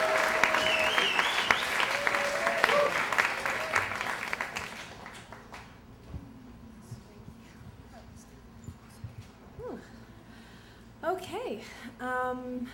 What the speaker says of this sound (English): Big round of applause for JJ coming up right now.